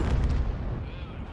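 A heavy tank's cannon fires once in a tank video game, a single short deep boom that decays quickly.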